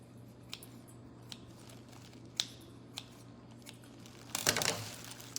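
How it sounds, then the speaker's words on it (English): Kataifi pastry is cut into a bowl: a few soft snips and ticks, then a brief louder rustling crunch near the end, close and quiet. "So what I do is I put the kataifi, I cut it in a bowl."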